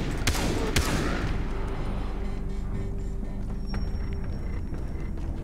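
Gunfire in Far Cry 3, with a couple of sharp close shots early, then fainter scattered pops over a steady rumbling background.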